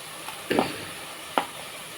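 Ginger garlic paste hits a hot pan while a chicken curry is cooked: two short bursts of sizzling and stirring scrape out over a quiet hiss, the first longer and louder than the second.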